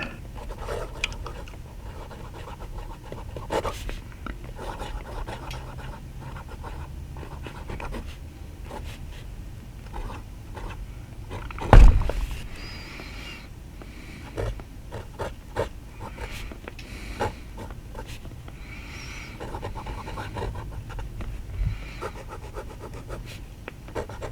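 A 1950s Conway Stewart 84 fountain pen nib scratches across paper in a steady run of close, faint strokes and scrapes, with one sharp knock midway and no talk.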